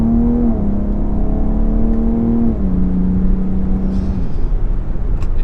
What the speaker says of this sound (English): With this, I feel like you get that nice little grumble,